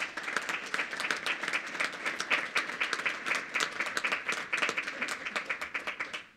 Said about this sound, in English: another round of applause for tonight